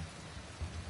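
Rain falling in the video game Sifu, a steady, moderately quiet hiss of rain with a low rumble underneath, continuous and even throughout with no voice.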